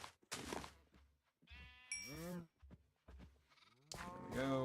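Minecraft sheep bleat several times in short wavering calls, close and clear, separated by brief gaps with a small chime-like ding midway.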